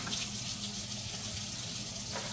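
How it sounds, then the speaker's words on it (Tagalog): Tap water runs steadily into a cooking pot being filled for boiling pork with lemongrass, a close, even gush lasting a couple of seconds with no talk. "Lagyan natin ng tubig."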